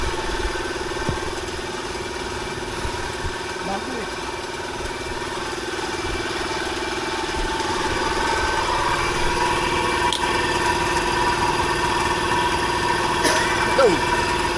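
Engine idling steadily with a low continuous hum and faint vibration, close and moderately loud, with occasional small knocks and a brief rising whine near the end.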